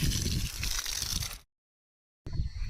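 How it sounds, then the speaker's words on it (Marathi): Water pours onto a newly planted rose sapling on a farmhouse plot, a soft sloshing splash that cuts out abruptly and then resumes briefly. "त्या साईडला लावून आम्ही आता पाणी पण मारायला चालू केलं"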